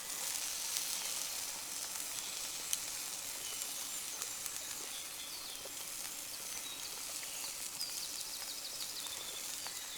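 Spicy marinated pork sizzles steadily in a pan at a car camping stove, a close, even hiss of frying with faint popping spatters throughout and no talking.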